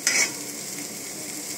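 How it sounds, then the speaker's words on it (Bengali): Bitter gourd slices frying in a pan hiss steadily in hot oil, opening with a bright metallic scrape of a spatula before settling into an even, close sizzle. "আমার প্রায় করলা ভাজা হয়ে এসছে, আর একটু লাগবে।"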